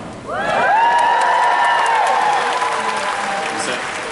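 A convention audience in Dallas, Texas claps together with a few cheers and whoops, the applause holding steady for several seconds before easing slightly.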